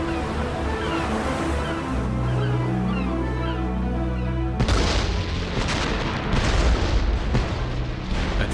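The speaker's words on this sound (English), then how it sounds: "hundreds of ships unload thousands of tons of high explosives on the Italian and German positions in preparation for the invasion" Naval bombardment before a seaborne invasion of Italian and German positions: heavy booming blasts and rumbling concussions, with a low drone at first and then a sudden, louder, dense barrage of explosions.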